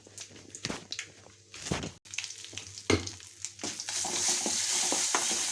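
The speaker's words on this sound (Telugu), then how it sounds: "అలాగే కొంచెం ఆవాలు కొంచెం ఇంగు వేస్తున్నాను అలాగే కరివేపాకు వేసుకుంటాను" Mustard seeds, asafoetida and curry leaves dropped into hot oil for a tempering, giving a steady close sizzle with crackling pops and a few stirring clatters, the frying growing denser and louder toward the end.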